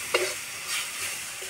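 A splash of water goes into frying spice masala of turmeric and coriander powder in a pan, giving a short hiss followed by a faint, steady sizzle.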